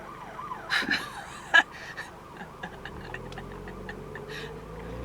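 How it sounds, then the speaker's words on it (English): A distant emergency vehicle siren wails in a fast up-and-down pattern, fading as it continues, with scattered clicks and knocks nearby. "How dare they blare their fucking siren."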